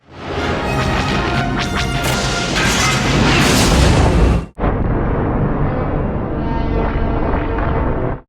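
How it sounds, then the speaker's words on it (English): Heavy, roaring blasts fill the space as the Millennium Falcon fires two concussion missiles from launch tubes between its mandibles in a Star Wars film: a long rumbling barrage, a sudden cut, then a second sustained booming roar. "The Falcon fires two from launch tubes between the mandibles."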